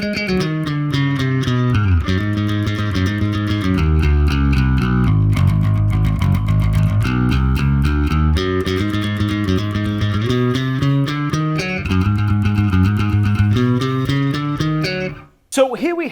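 Distorted bass guitar plays the main riff of a song in a speed-metal style, a loud, steady run of repeating notes with ascending and descending motifs that ends abruptly.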